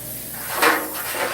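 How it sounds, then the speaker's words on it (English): Olive oil sprayed from a can over a pan of dressing: a single soft hiss that swells briefly and fades, alone with no talk. "I'm going to use my olive oil, spray this"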